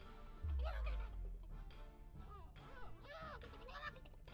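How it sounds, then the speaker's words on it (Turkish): Chicken clucking in the Witch It hide-and-seek video game: a run of squawky, honking clucks in short bursts over a low rumble, fairly faint and repeated. "O tavuk ötmeye devam ederse yalnız benim işim iş."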